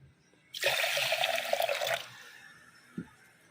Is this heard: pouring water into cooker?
yes